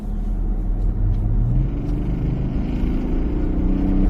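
BMW 740d diesel sedan with eight exhaust outlets accelerating hard on a straight road, a loud, steady low engine roar and rumble that builds continuously without pause and with no talk over it.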